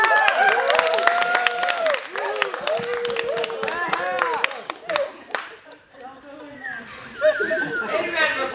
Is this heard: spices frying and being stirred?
no